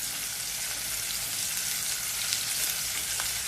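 Onions fry in a pan with a steady, dense sizzle that continues evenly throughout, close and alone with no talk.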